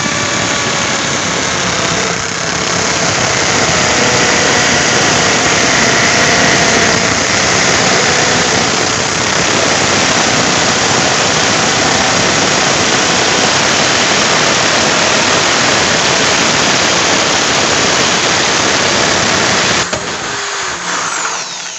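A drill with a wood bit bores a hole in a wooden drawer for a key lock, giving a loud, continuous whine and grind for about twenty seconds before stopping abruptly.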